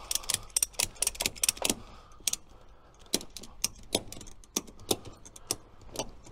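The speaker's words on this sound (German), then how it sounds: "Ziehen uns die Ratsche ein bisschen hin." A ratchet strap is cranked tight while securing a Dux camper cabin onto a pickup truck, giving rapid bursts of sharp metallic clicks followed by slower, spaced ratchet clicks, close and loud with no talk.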